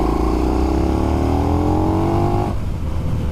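A 2020 KTM Super Duke R motorcycle in third gear from 3,000 revs, throttle opened hard: a loud, close engine roar climbing steadily in pitch, then cutting off abruptly as it shifts.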